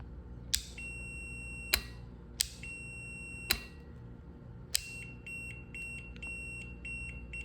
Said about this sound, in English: it's just beeping at me because I'm not making good contact with my probe